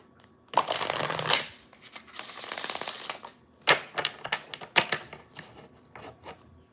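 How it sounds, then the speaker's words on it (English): A tarot deck is shuffled up close in a few crisp riffling bursts, then several shorter flicks and taps of the cards. "2 more shuffles."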